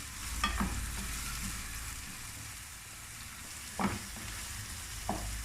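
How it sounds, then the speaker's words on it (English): Onions frying in oil with a steady, close sizzle, broken by a few sharp stirring scrapes. No one speaks. "we're going to let the onion be in the oil and let it simmer until it turns golden brown"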